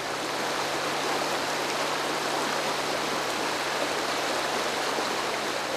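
Steady, full rush of a river flowing outdoors, a loud even broadband wash without pauses or voices.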